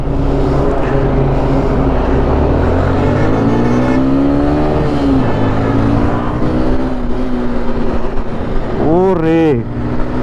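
A modified Suzuki Gixxer SF 250 motorcycle, ridden with its bodywork raised and due for service, revs up and pulls away in a loud, close acceleration run, its engine note rising and shifting.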